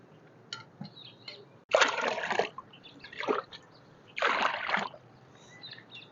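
Water is poured into a mustard cake fertilizer solution in three splashy bursts, separated by quieter trickling and small drips.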